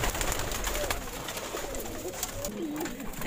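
Pigeons coo softly in a quiet coop at feeding time, with several low, rolling calls spread across a faint background.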